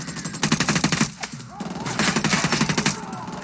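Ghost Recon Wildlands gunfire erupts in rapid automatic bursts, loud and close, with crackling shots stacking into a dense fusillade, a short pause, then more sustained firing.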